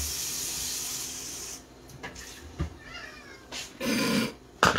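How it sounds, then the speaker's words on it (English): A cat begs for food in a kitchen while stuffed peppers are being cooked, giving a few short meows between running-tap hiss and clattering, with a louder burst of water near the end. "You may hear my cat begging."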